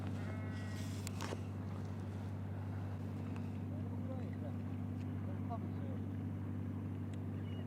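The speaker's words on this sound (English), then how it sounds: "it's making some racket, that boat now, listen it." A loud, steady low engine drone rumbles throughout, with faint bleating-like calls and scattered background sounds over it.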